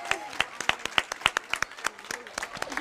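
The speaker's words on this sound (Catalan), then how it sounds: "Li donem un fort aplaudiment" Scattered, uneven clapping from a small audience at a local radio special in Bellreguard, fairly close, with distinct individual claps over a quiet hall and a voice talking faintly underneath.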